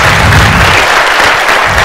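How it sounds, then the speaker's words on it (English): A loud, dense round of applause fills a Bangalore auditorium for a PyCon India 2014 conference speaker, a continuous wash of many hands clapping close up with no pause. "So can we have a huge round of applause for him?"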